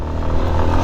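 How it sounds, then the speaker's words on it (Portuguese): A 2024 Yamaha XTZ 250 Lander ABS motorcycle engine revs close by in a short, loud burst, the pitch rising and falling with a rough mechanical clatter. "Cara, essa motinha aqui é muito divertida."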